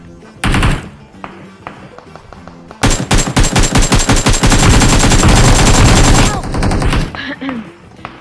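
Rapid automatic gunfire in a shooting video game bursts out loud and close, first in a short volley, then a long sustained stream of shots, with scattered single shots and game sounds around it.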